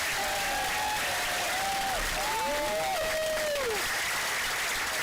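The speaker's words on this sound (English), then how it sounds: "let's give another round of applause to our seniors" Steady applause from a crowd at a high school baseball senior night and park dedication fills the whole clip, dense and even, with a faint whistle-like tone drifting through the middle.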